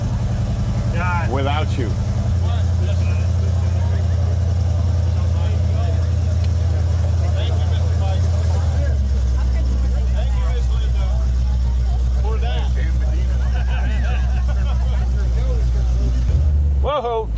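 The General Lee car's engine cranks and settles into a deep, loud, rumbling run with the idle pitch stepping down a few times, while people talk close by.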